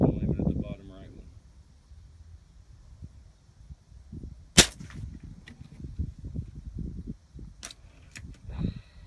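A .177 caliber air rifle fires at a spinning target, giving a single sharp crack with a faint metallic ping, followed by later small clicks over quiet background rustle.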